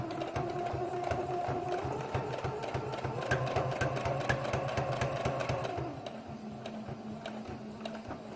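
A sewing machine back stitches the seam of a reusable fabric shopping bag, a steady rapid mechanical chatter running continuously close up, with a slight shift in pitch near the end as the stitching reverses.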